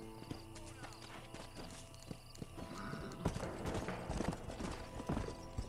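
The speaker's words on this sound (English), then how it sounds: "let's get off my horse" Steady hoof clip-clops of a horse walking in Red Dead Redemption, with an occasional neigh, over game background music, getting a bit louder toward the end.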